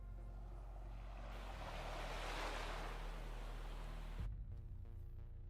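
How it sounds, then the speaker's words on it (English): Ocean waves in the game Snowbreak: Containment Zone form a broad hissing surge that swells and recedes over a low droning bed, then cuts off abruptly near the end. "I seem to hear the sound of waves again."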